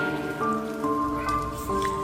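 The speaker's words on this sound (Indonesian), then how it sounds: "ditemani suara rintikan hujan" Raindrops patter and drip as a narrated story sound effect, soft and steady with scattered taps, under a sustained tonal musical bed.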